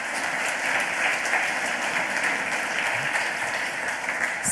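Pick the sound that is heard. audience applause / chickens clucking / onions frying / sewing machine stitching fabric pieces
audience applause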